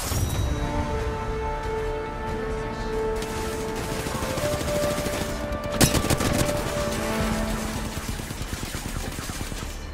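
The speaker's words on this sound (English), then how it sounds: "Shots fired, and they're hitting me." Rapid gunfire crackles through an Apex Legends firefight, bursts of automatic shots layered with a sharp loud crack near the middle and ringing game effects, continuous and close.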